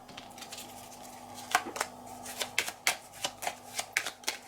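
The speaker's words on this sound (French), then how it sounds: "Je dépense un point de santé pour tirer cette carte." Cards are handled and snapped on a tabletop during a solo play of the board game Vendredi. A string of crisp flicking and riffling clicks repeats closely and quickly at close range, with no voices over it.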